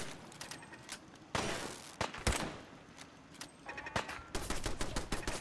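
Gunfire in the video game Fallout 4 pops out as sharp single shots and short bursts, loud and close, separated by brief gaps with faint game ambience between them.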